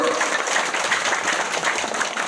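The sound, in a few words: audience applause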